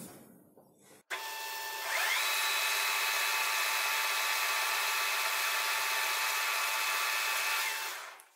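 After a soft rustle and a click, a high-pitched power tool spins up and whines steadily for about six seconds. It is deburring a freshly drilled hole in a steel steering pin from a K-744 tractor, then cuts off abruptly.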